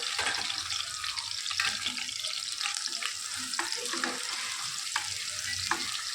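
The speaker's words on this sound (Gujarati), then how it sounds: "થોડા કેપ્સિકમ પણ શેકી લઈએ." Capsicum roasting in a hot pan for Punjabi sabji, a steady close sizzle with occasional stirring scrapes running throughout, no voices.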